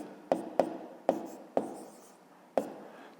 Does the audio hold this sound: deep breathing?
no